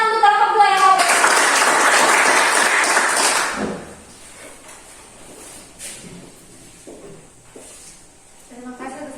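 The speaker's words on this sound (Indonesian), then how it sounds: "tepuk tangan untuk kelompok 2 yang mau presentasi." Classroom students applaud a group about to present, a loud burst of mixed clapping lasting a few seconds after a brief voice, then dropping to quiet room noise with scattered thumps and talk.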